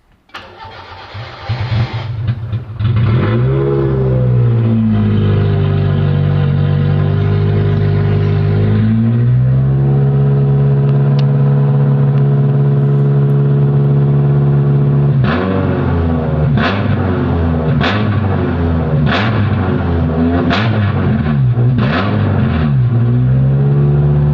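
A Toyota AE86 race car cranks with a rapid starter whir, catches and settles into a loud, lumpy idle, then gets several sharp blips of the throttle that rise and fall in quick succession, close and alone.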